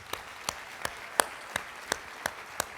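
Sparse, slow claps ring out at a county executive's 2024 State of the County address: about eight separate, evenly spaced hand claps, crisp and moderately close, with no crowd roar.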